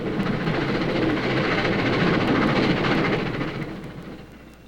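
A passenger train runs along the rails with a dense, continuous rumble and rattle, loud and close throughout before easing off slightly at the end, with no voices.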